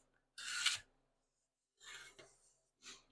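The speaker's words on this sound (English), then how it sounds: "Now I can come in with my card scraper and scrape the excess" A card scraper drags across a wooden plane body to remove excess glue, three separate close, rasping strokes, the first longest and loudest, the later ones shorter with quiet gaps between.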